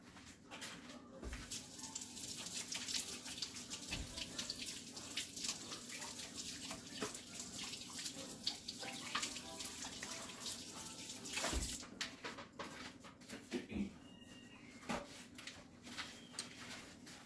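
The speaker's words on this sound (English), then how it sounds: "Let me wash my hands real quick." Kitchen tap water running steadily into a sink during handwashing while making nut roll, quiet and continuous with occasional splashes and clunks.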